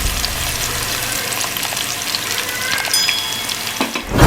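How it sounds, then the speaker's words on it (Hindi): Onions frying in a pan for Sindhi biryani, a loud, steady close-up sizzle with crackling spatters that holds throughout and swells slightly at the end, no voices. "तो प्याज शायद फ्राई हो रहे हैं।"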